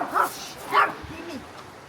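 A dog gives two short, sharp yips followed by a soft whimper, close by, inside an establishment while a cat is also present.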